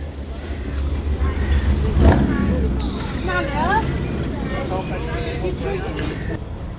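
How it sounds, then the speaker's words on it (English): A 1957 Chevrolet Bel Air four-door burbles in at a classic car show, a low steady engine rumble up close with someone talking over it. "Burbling its way in, a Chevrolet, about 1957, a Bel Air"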